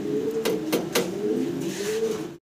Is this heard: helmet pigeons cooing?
yes